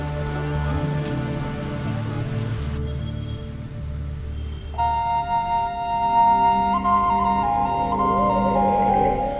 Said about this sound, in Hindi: और तब एक आवाज़ आनी शुरू हुई, पहले हल्की, फिर थोड़ी और फिर थोड़ी और तेज़, और बिना देखे ही समझ आ गया कि बी फॉल्स पास ही है